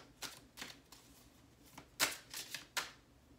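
Tarot cards are shuffled and pulled, with quiet crisp riffles and snaps coming in short bursts, several in a row, close and soft.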